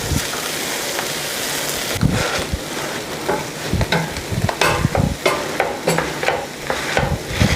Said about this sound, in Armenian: այսպես միանգամից կրակի վրա շատ քիչ տրորում ենք